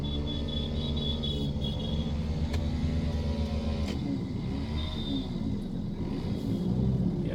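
Hyundai Verna car driving on a road, a steady low rumble of engine and tyre noise from inside the cabin with a few faint clicks and brief tones, no talk.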